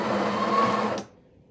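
A Breville Barista Express BES870 grinder grinds coffee beans at grind size 10, a steady close-up whirring buzz that stops abruptly after about a second, leaving only faint room noise.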